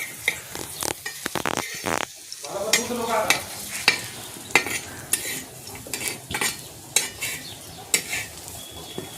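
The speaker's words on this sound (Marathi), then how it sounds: "आता दोन्ही बाजून भजे भाजून घेतलेले आहे" Bhaji fritters made from a thick batter fry in oil in a pan, a low sizzle broken by repeated sharp clinks and scrapes of a utensil against the pan.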